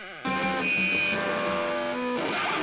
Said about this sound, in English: Distortion over here.